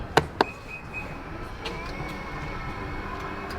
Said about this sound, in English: I've never had one of these, team. You know, a boot that does this.